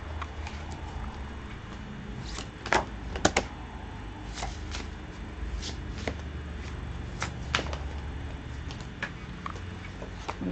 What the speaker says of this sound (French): je vais tirer une carte du I Ching